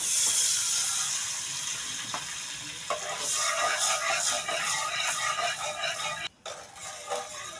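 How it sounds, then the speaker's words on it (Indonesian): A glass of water goes into a pan of frying turmeric paste in a home kitchen; a steady sizzle swells to a louder, busier hiss and bubbling partway through, then briefly cuts out near the end. "Kita tuang air 1 gelas dulu ya."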